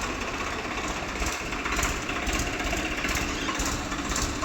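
A Swaraj 855 tractor engine runs steadily on a farm, giving a loud, continuous, close mechanical drone with a fast rhythmic chatter throughout and no talking.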